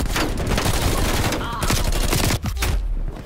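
Gunfire in Call of Duty during a Hardpoint match, hitting the player: dense, loud, continuous shooting with brief breaks, close and harsh throughout.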